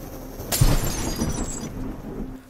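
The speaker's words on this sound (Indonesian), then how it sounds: "menyamarkan suara pecahan kaca jendela di lantai dasar" A window pane on a ground floor, smashed with a stone on a rainy night, gives a sudden sharp crash of breaking glass, followed by a couple of seconds of scattered tinkling debris over steady background noise.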